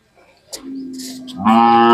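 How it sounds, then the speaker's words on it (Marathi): A bull calf at a livestock fair lows in one long, drawn-out moo, close by. The call swells louder toward the end. "डपळापूर मानेंच्या वळूचा खोंड आहे"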